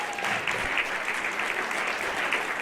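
An audience at a community health forum applauds in a steady, even burst of clapping that fills the room for a few seconds without letting up.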